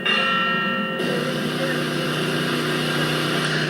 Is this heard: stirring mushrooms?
no